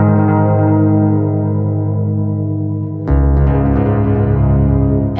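Electric harp bass pickup run through a pitch delay set to fifths, giving sustained low power-chord drones with heavy effects, a held tone then a fresh louder attack midway that rings on with rhythmic pulsing echoes.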